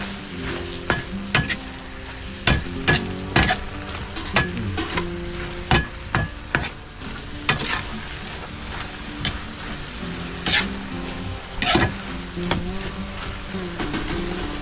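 Sautéed eggplant frying in a pan and stirred with a utensil, with a steady close sizzle punctuated by repeated sharp scraping and clanking strokes at an uneven rhythm.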